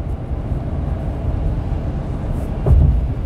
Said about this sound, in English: you can definitely feel that exhaust brake holding you back a little bit